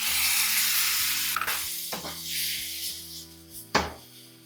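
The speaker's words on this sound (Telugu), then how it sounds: "పన్నీర్ని ఇలా మంచిగా వేగనివ్వాలి. ఇలా కలుపుతూనే ఉండాలి" Paneer cubes frying in hot oil with spices while a spoon scrapes and stirs them, steady sizzle broken by several rough scraping strokes and a clack near the end, no voices.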